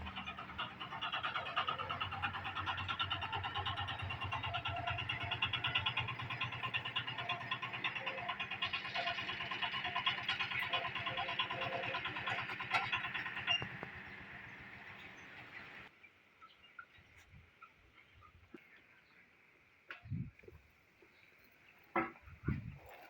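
A small tractor engine drones steadily for about fifteen seconds while climbing a steep driveway, then cuts out, leaving quiet with a few scattered knocks and clunks.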